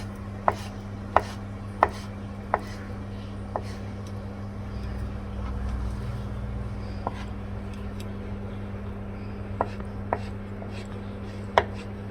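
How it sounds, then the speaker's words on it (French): A knife chopping the white of leeks into small cubes on a board: sharp, distinct taps come in irregular bursts of a few strokes, with pauses between, over a steady low hum and no talk. "on va couper le blanc en petits cubes"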